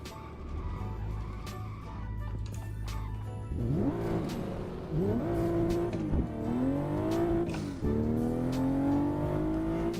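Car engine in the racing game Assetto Corsa, played on a No Hesi server, drones low, then revs repeatedly through rising gear pulls, each climbing whine dropping back between shifts, steady and close with no voices.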